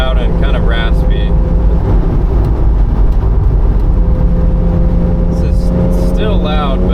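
A Porsche 987.1 Boxster S fitted with Totalflow mini mufflers drones with a loud, continuous low exhaust rumble as it drives, a few brief higher chirps rising above it near the start and end.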